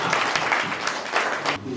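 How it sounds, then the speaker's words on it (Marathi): Former students at a school reunion for the 1997–2002 batch applaud their teacher Chavan madam with a dense, lively burst of clapping. "त्यासाठी पहिल्यांदा चव्हाण मॅडमसाठी विशेष टाळ्या झाल्या पाहिजे"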